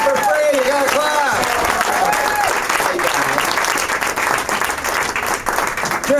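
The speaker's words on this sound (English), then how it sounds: "Come on, people, clap. Clap!" An audience claps at a live music venue, the Bluebird Cafe, with loud, dense applause that fills the whole span while someone talks over it.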